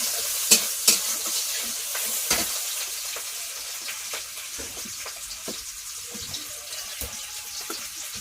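A bay leaf dropped into hot oil, a sharp crackling sizzle with a few loud pops at the start settling into a steady hiss.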